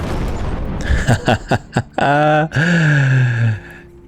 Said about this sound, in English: The bomb explodes